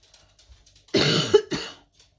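A single sharp cough bursts out, followed quickly by a second shorter cough, close and fairly loud against a quiet background.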